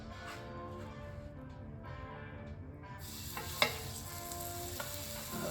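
Two smash burgers fry on a Bolt Fire Box with a soft, continuous sizzle, heard faintly and alone, broken by a single sharp tap partway through.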